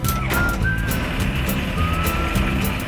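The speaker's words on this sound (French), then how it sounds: "Là on va mettre les allumations, la pompe carburant. Look, gaz réduit, personne autour. On y va, on démarre." Seaplane engine turning over and running loud and steady close by, with broadband roar, faint tonal whine and no talk over it.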